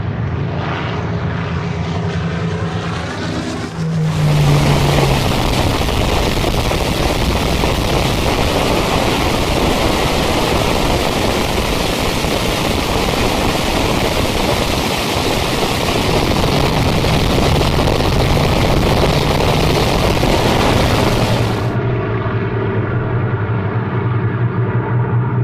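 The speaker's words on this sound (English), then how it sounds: "A symphony of Merlin and Griffon engines to stir the soul." Spitfire fighters with Merlin and Griffon engines roar past at an air display, a loud sustained blast of propeller-engine noise rising abruptly, holding for many seconds, then cutting back to a distant drone.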